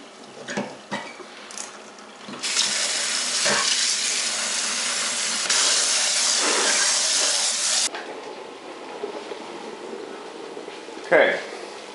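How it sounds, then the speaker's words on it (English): Water runs from a tap into a container in a kitchen while salad rolls are prepared, a steady rushing hiss for about five seconds, bracketed by clinks of dishes and utensils. "I'm just going to pour some water in here"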